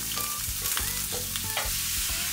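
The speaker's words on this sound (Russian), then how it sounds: "Теперь нужно обжарить капусту." Cabbage sizzles and crackles in a hot pan while a utensil scrapes and stirs it several times, close and brisk.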